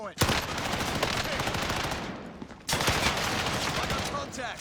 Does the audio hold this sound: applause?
no